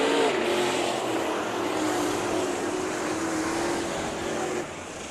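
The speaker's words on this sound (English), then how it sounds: "Around goes Reed in the 7. Single car spin" Race cars at Bakersfield Speedway during heat races, a continuous loud engine drone with a droning whine that holds steady before dropping off near the end.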